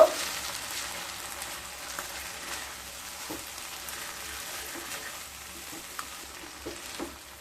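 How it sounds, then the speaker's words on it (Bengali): Ingredients for a vegetarian green tomato jhal, topped with raw mustard oil and coriander leaves, are stirred and mixed in a hot pan, giving a steady close sizzle with soft scraping and occasional light clicks and no voices. "এবার সমস্ত উপকরণগুলোকে খুব ভালোভাবে মিশিয়ে নেব।"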